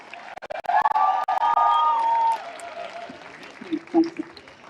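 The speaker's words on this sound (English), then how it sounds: "You don't often cheer for economists, do you?" A crowd at an Extinction Rebellion rally cheers and applauds, with loud clapping and whoops swelling early and then fading into scattered shouts and a voice near the end.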